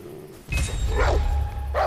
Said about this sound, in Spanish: ¿Y el perro dónde está? Que lo estoy oyendo.